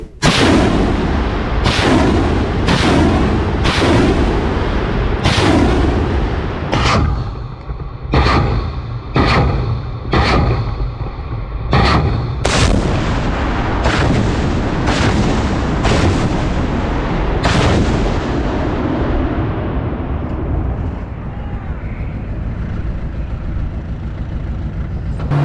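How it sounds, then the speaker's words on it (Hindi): Russian MLRS rocket artillery firing on Ukraine: a rapid series of loud, sharp launch blasts in quick succession, then a long rumbling roar that slowly fades. "तो MLRS दागी है रशिया ने यूक्रेन पर।"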